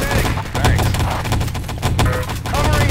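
Dense rapid gunfire in a Wolfenstein: Enemy Territory multiplayer match, loud continuous automatic bursts and overlapping shots filling the whole stretch, with game voices faintly beneath.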